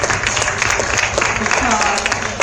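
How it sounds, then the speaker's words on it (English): Applause from the audience at a Sauk Village board meeting, a brief round of clapping heard over steady talk, with voices continuing throughout. "can we give him an applause?"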